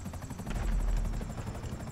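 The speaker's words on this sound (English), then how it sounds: "Oh, this chopper?" A nearby helicopter beats out rapid rotor chops over a whining engine, loud and steady for the whole short stretch, swelling slightly partway through.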